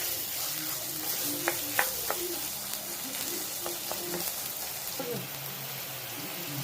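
Goat trotter paya masala, Chettinad style, sautéing in a pan, giving a steady close sizzle with a few brief clinks of stirring over it.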